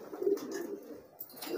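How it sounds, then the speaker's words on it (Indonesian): Homing pigeon cooing close by, soft low throaty coos in two short phrases separated by a brief pause, with faint background noise. "kita tes merpati pos ya"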